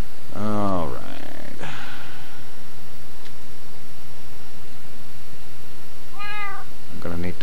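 A Minecraft cat meows twice in the game, a clear, loud mew at the start and another near the end, with a brief game sound between them over a steady background hiss.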